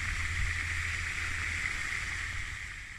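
A river flows steadily nearby with a constant broadband rush of moving water, even and unbroken, with no voices over it.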